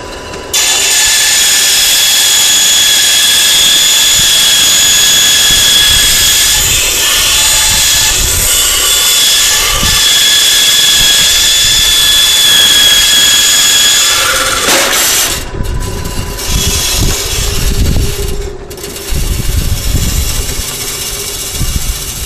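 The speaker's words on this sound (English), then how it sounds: "it sounds to me like my other bandsaw tire just blew" Bandsaw running after one of its tires blew, a loud steady high-pitched whine with grinding rumble underneath, close and continuous, shifting in tone in the last third.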